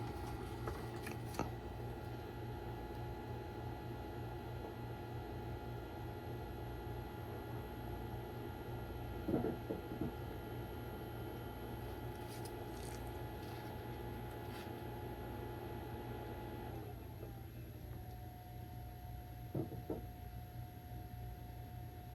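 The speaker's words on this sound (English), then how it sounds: "the fan kicks into high mode and then dials itself back to a more quiet setting" A TP-Link 8-port gigabit PoE switch's cooling fan runs as a steady broadband whir with faint tonal hum, joined by a NAS in the background; a few brief clicks occur, and near the end the pitch shifts as the fan settles into a quieter speed.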